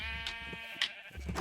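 Sheep bleat inside a farm barn, several wavering calls overlapping at close range over a low background hum, with no speech.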